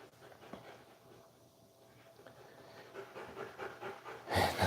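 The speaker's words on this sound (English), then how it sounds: "I don't know if you can hear him panting." A dog pants quietly and rapidly at close range, a soft, steady breathy rhythm that ends in a sudden loud burst of rustling noise.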